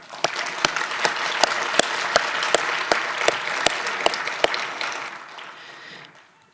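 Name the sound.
audience applause at graduation ceremony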